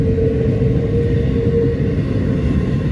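A loud, steady rumble of a passing Norfolk Southern or CSX intermodal freight train in Spartanburg, South Carolina, with a faint whine over the heavy low roar.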